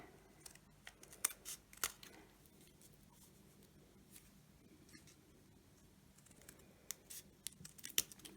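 Quiet, intermittent snips of scissors cutting paper, with scattered short clicks and rustles across the stretch, no voices.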